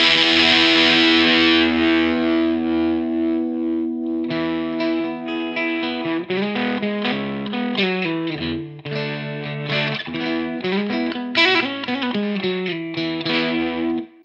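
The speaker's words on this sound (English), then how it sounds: "So I'm running the fuzz on full." A heavily distorted electric guitar through an MXR Hybrid Fuzz pedal set to full fuzz: a sustained chord rings out, then choppy riffs and chords play loud and saturated, with no voices.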